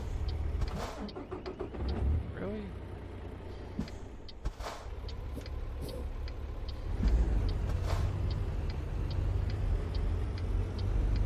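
A stock Peterbilt 389 truck driving in American Truck Simulator, a steady low engine drone and road rumble with faint repeated ticking clicks over it, no voices.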